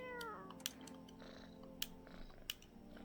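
A cat in a video game meows once, then a few soft quiet mews and small clicks follow over a faint ambient hum.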